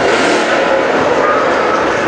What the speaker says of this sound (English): that Mustang sounds crazy